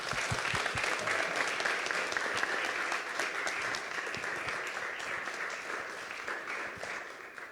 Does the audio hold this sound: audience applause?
yes